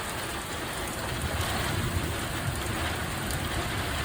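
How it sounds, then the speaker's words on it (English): Steady rain pours down in Wonder Valley, California, a dense, even hiss of drops on surfaces that holds constant and close for the whole stretch, with no voices. "Let me see some of this rain coming down."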